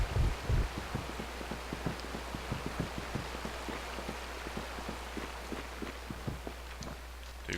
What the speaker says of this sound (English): Sideways rain as well.